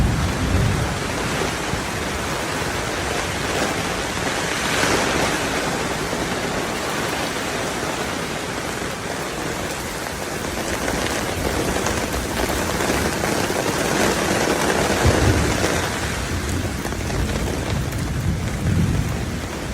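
Heavy rain pours steadily with rolling thunder rumbling through it, a dense continuous roar that swells at times, with no voices.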